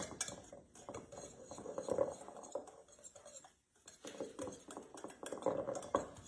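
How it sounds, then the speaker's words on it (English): Dry muffin ingredients for low-carb pumpkin cream cheese muffins whisked in a bowl, with light metallic scraping and clinking in uneven bursts, close and fairly quiet, with a brief pause midway. "we're going to take our dry ingredients and we're just going to give them a good whisk"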